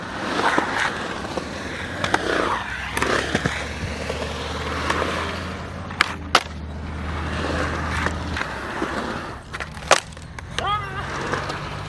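A busted skateboard with a split deck rolls at a skate park, a continuous rough rumble and rattle with occasional sharp knocks and clacks, loud and close throughout.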